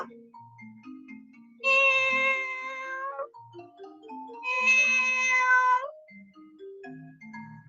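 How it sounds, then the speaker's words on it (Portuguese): A cat meows twice, each meow long and drawn-out, lasting about a second and a half with a bright, tonal, wavering pitch. Quieter scattered tones sit between the two calls. "o miado de um gato"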